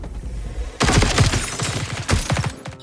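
Sudden bursts of rapid gunfire in a film shootout, two loud volleys of repeated shots close by, with a short pause between them before cutting off.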